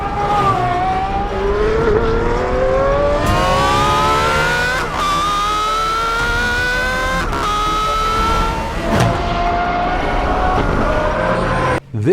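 Aston Martin Valkyrie hypercar engine screams through rising high-pitched revs, with several sharp gear-change breaks between climbing pulls, loud and close throughout.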